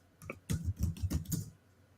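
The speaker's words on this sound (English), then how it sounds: "such a slow typer, NammaN." Quick bursts of typing on a computer keyboard, five or six clustered keystrokes in a short uneven run, close and fairly quiet, with no talking.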